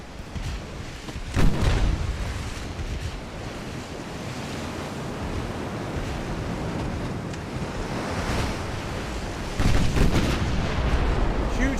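Naval cruiser guns fire in Ultimate Admiral, a warship battle game, as several dull booming shots over a constant roar of wind and sea surf.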